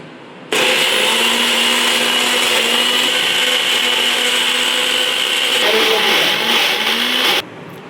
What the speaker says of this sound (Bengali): এবার আমি পেঁয়াজটা বেটে নিই।